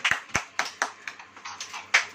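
Congregation clapping hands in rhythm during a Hindi church sermon, about nine sharp claps at a steady pace, fairly close and loud, with no talking over them.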